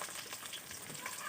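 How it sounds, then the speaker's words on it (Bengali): Garlic, ginger and cumin pastes with chili and garam masala pastes fry in oil with browned onions for a broiler chicken curry, giving a brief, faint but steady sizzle throughout. "এখন আমি তেলের মধ্যে কিছুক্ষণ ভেজে নিচ্ছি।"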